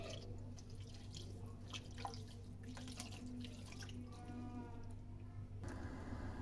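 A small amount of water goes into a cooking pot of chicken pulao spices: cinnamon, star anise, cumin, black pepper, cloves and black cardamom. Faint drips and trickles sound close by against a quiet, steady background hum.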